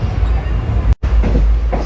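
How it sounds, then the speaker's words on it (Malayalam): Ernakulam–Madgaon–Chandigarh express rolling past close by, a loud steady rumble of railcars and wheels, broken by a brief gap before the roar resumes. "എറണാകുളം മഡ്ഗാവൺ ചണ്ഡീഗഡ് ട്രെയിനാണത്"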